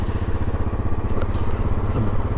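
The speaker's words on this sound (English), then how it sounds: "the perfect home for the Royal Enfield 500 trials" A Royal Enfield 500 Trials motorcycle engine thrums steadily while riding along a quiet road, a close, continuous pulsing drone with no speech.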